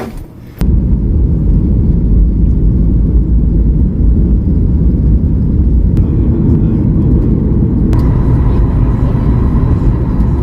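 Inside an airliner touching down in Las Vegas, loud continuous engine roar and cabin rumble with a sharp jolt near the start and later shifts in tone as the plane rolls out, no speech.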